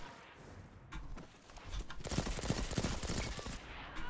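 Rapid bursts of pulse rifle fire in the Destiny video game, in quick rhythmic volleys that grow louder and denser midway, with faint background game noise.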